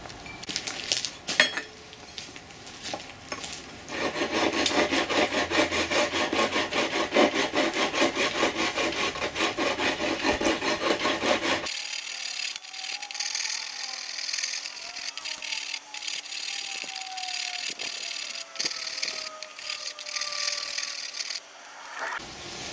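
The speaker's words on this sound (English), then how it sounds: "half an hour of going at it with the rasp and getting down as deep as I could with that" Steel rasp scraping back and forth across the wood of a carved stool seat, steady rhythmic rough strokes, loud and close for most of the stretch, then stopping and giving way to quieter background noise.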